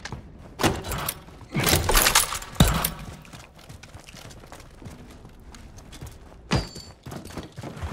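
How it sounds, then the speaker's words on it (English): A weapon being reloaded in Call of Duty Modern Warfare gives a run of close mechanical clacks and thumps. Magazine and bolt handling come in uneven bursts over quieter battlefield ambience, and a final sharp clack lands near the end. "Got to reload."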